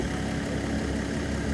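A tuned car engine of about 400 horsepower, fitted with an intercooler and a reworked intake, idles with a steady, dense low rumble that stays constant throughout, close and fairly loud, with no talk.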